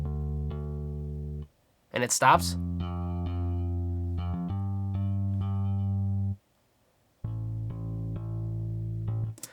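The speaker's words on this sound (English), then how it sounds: "this is actually Moto Bass from IK Multimedia, a really great plugin" A live-sounding electric bass from IK Multimedia's Moto Bass plugin plays a chill dance beat line of sustained low notes broken by short gaps, with a brief spoken voice near the start.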